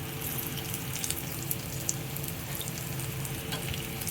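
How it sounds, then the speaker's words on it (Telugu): Chopped ginger and garlic frying in oil in a kadai, giving a continuous dense sizzle with small sharp crackles and pops scattered through, close and steady with no voices. "ఇప్పుడు అదే కళాయిలో ఆయిల్ వేసి అల్లం వెల్లిగడ్డ తరిగి పెట్టాను."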